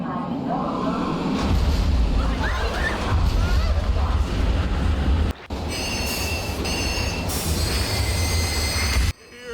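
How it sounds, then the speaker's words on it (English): A loud train rumbles in with screeching wheels and metallic squeals, continuous and close, with a brief cut near the end. "That's the sound of the X-Train coming!"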